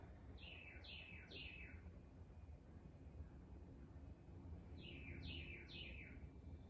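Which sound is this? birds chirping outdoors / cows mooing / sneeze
birds chirping outdoors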